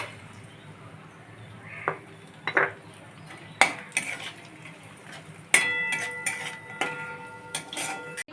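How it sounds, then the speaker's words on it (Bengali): A utensil stirs cashews and raisins frying in ghee in a wok, producing scattered metallic scrapes and clinks over a soft sizzle. The strokes are irregular and fairly close. "এর মধ্যে দেখুন আমি কাজু আর কিশমিশটা জাস্ট শুধু একটু শুধু নেড়ে তুলে নেবো"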